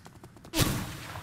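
A single sharp gunshot cracks out in the Roblox game The Wild West, loud and close, then trails off into a rumbling decay after a few soft thumps.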